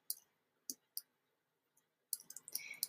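Computer mouse clicks while drawing with a pen tool in design software: a few sharp, isolated clicks spaced apart, then a quicker cluster of clicking and light rattling near the end, close and fairly quiet.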